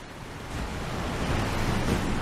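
A waterfall in the video game Elden Ring rushes with a steady, full roar of falling water. The sound is loud and close, and it swells slightly partway through without any break or voices.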